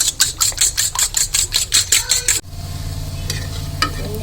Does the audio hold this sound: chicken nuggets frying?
yes